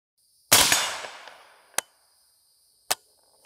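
Three rifle shots fired outdoors while testing a Nikon Black Force X1000 scope, a loud opening blast with a long trailing echo, then two sharp single cracks about a second apart before the magazine runs dry.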